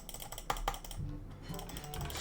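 Intense rapid clicking while playing a game: fast, dense clicks of keys or a mouse, steady and close, quiet and alone without talk.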